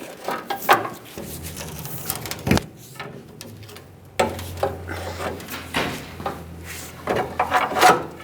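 Long pry bar forcing an idler arm out of its bracket on a 2007-2014 Chevrolet Silverado 2500 HD, a series of close metallic scrapes, creaks and knocks in uneven bursts with short pauses between.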